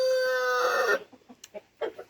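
A Rhode Island Red rooster finishes a long, loud crow, followed by a series of short, nearby clucks from the hens.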